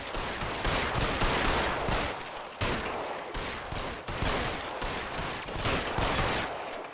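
Sustained gunfire in L.A. Noire: a dense, loud barrage of rapid shots running steadily for several seconds with only brief dips, no voices over it.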